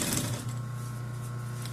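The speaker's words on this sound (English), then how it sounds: "while I sew" A sewing machine runs steadily and close up, stitching a wildfire fighter's chaps with a continuous, even motor hum and needle rhythm, with no voices.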